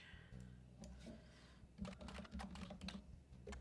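Quick, irregular clicks and clatter of keys on a computer keyboard, typed in uneven bursts at close range with no talking, fairly quiet overall.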